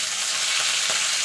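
Ginger, green chili and tomato frying in hot oil, a loud, steady crackling sizzle filling the space, with faint stirring movements underneath.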